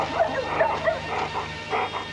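Dogs on a foggy moor in a 1983 film of The Hound of the Baskervilles give a few soft, quick yips and whimpering barks, faint and fairly distant.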